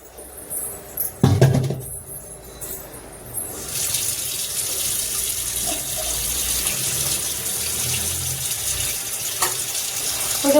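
After a brief clatter near the start, water pours steadily into a bowl, a close, even gushing rush that holds to the end with no voices.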